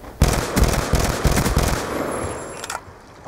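A grenade in a first-person shooter explodes after bouncing off a wall, a loud close blast followed by a burst of crackling, rattling gunfire-like reports that trail off into a ringing tone.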